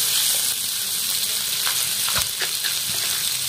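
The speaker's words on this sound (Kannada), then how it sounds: "ಆ ತರ ಚೆನ್ನಾಗಿ ಫ್ರೈ ಮಾಡ್ಕೊಳ್ಳೋಣ್ರಿ ಎಣ್ಣೆಯಲ್ಲಿ, ಹೈ ಫ್ಲೇಮ್ ಒಳಗ ಫ್ರೈ ಮಾಡ್ಕೊಳ್ಳೋಣ್ರಿ" Finely chopped onions frying in oil over a high flame, a loud, continuous sizzle with crackling pops and a few stirring scrapes close by.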